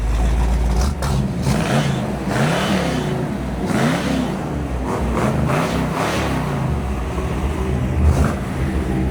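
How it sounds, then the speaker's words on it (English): A rotisserie-restored 1969 Pontiac GTO convertible accelerates, its engine giving a loud, steady rumble that swells slightly as the throttle opens and holds for the whole stretch, with no talking. "I love when you're giving it a little gas and she just tilts a little bit."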